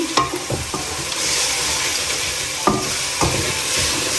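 Sliced onion, ginger and green chilli fry in hot oil for a pork roast, giving a steady, close sizzle broken by a few sharp clinks and scrapes of stirring.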